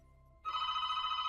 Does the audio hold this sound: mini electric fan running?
no